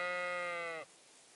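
A single sheep bleats in the Kingdom Come Deliverance 2 video game: one sustained, wavering, nasal call, close and clear, that cuts off abruptly and leaves a quiet hush.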